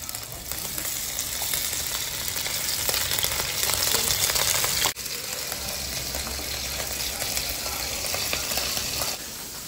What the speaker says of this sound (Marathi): आता हे डायरेक्ट तेलावर टाकून फ्राय करूचे.